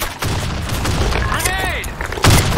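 A grenade goes off in a desert-sandstorm shooter game, a sharp blast with rolling booms amid battle noise, while a voice speaks over it.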